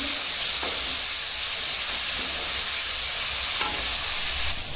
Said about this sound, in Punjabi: ਪਿਆਜ਼ ਪਾਵਾਂਗੇ ਆਪਾਂ ਪਿਆਜ਼ ਨੂੰ ਹਲਕਾ ਜਿਹਾ ਭੁੰਨਾਂਗੇ